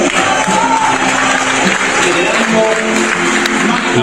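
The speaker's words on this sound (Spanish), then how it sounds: "Los aplausos son del público" Steady applause from an audience at a political speech about Argentina's future, filling the whole stretch at a constant level with crowd noise and faint voices mixed in.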